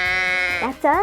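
A sheep gives a loud, close, wavering bleat in a children's farm animal guessing game, followed by a second shorter bleat, with a brief voice speaking over the end.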